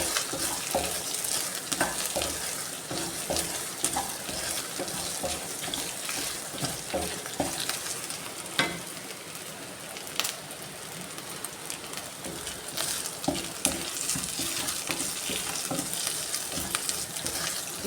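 Crushed ginger and garlic frying in a pan, giving a close, steady crackling sizzle with intermittent scraping stirs throughout and no voices.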